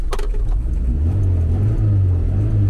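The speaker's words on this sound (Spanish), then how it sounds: "le damos unos toques de gas." An older car's cold engine catches after a hard start and is given a few blips of throttle, a loud close rumble whose low drone rises and steadies into revving, with no talking.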